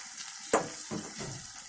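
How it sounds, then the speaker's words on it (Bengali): Chicken and egg go into a hot frying pan for noodles, giving a sharp clatter followed by short bursts of sizzling and stirring, close and moderately loud with no talking. "এখন আমি ওই যে নুডলসের জন্য যে চিকেনটা এবং ডিমটা তুলে রেখেছিলাম সেগুলো আমি দিয়ে দিচ্ছি।"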